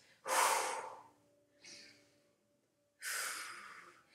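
Sharp, close exhales mark leg lifts during a mobility exercise: one strong breath, a softer one, then another strong one, with quiet pauses between and no talk.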